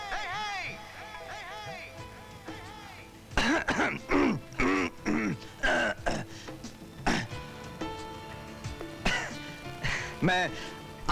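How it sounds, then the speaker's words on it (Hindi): A man clears his throat with a few rough, gravelly bursts amid speech and background music. "गला साफ कर रहा था"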